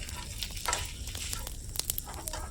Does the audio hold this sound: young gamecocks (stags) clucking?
no